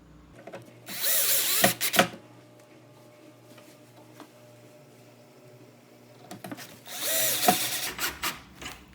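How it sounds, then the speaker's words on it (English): A power drill with a Phillips head bit drives screws into a cabinet drawer, giving two short close whirring bursts of about a second each, separated by quiet handling clicks. "I'm gonna go ahead and put a couple screws in here real quick."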